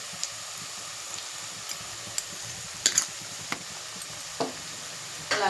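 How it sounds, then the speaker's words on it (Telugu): Onion frying with turmeric in a pan for a cucumber and dried prawn curry, a faint steady sizzle with a few sharp clinks and stirring scrapes. "ఇప్పుడు కొంచెం ఆనియన్ మనకి కొంచెం ఫ్రై అయితే బాగుంటుంది"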